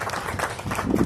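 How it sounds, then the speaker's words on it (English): Brief burst of clapping from an audience honoring school trustees at an elementary school ribbon cutting, a diffuse patter of many hands lasting about a second. "If you could all give them a round of applause"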